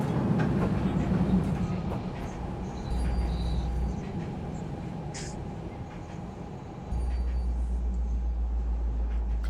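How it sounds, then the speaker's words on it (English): A roller coaster ride in the video game Planet Coaster, with a continuous rolling rumble of coaster cars on track, rhythmic clatter, and a couple of shifts in the low drone, without talk. "So the two roller coasters that we've ridden are Insanity and the Dark Descent"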